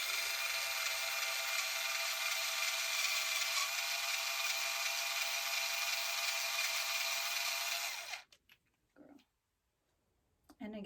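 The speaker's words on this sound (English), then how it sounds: "here's where your electric screwdriver is gonna help you out" An electric screwdriver or drill drives a screw into a quad cart during assembly, a steady loud whirring that runs unbroken for about eight seconds and then cuts off abruptly, followed by a few faint handling clicks.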